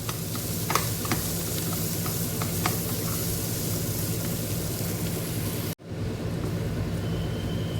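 Boiled potatoes being stirred in a frying pan, a dense hissing sizzle with occasional spatula clicks and scrapes, close and steady, cutting out briefly before resuming.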